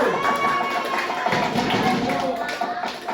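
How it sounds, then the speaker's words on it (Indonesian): A classroom of fourth-grade pupils claps for group 3 after their presentation, a steady, dense patter of small hands close by, with children's voices chattering over it throughout. "Tepuk tangan buat kelompok 3 dulu."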